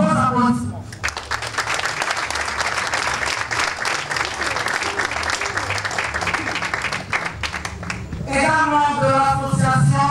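Sustained applause from a crowd at a year-end dinner of a political rally group breaks out after a brief spoken introduction and holds loud and dense for about seven seconds before cutting back to a voice talking over a hall.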